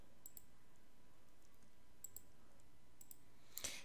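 Faint, sparse computer mouse clicks in a quiet room, a few isolated taps spread out over several seconds with one sharper, louder click near the end.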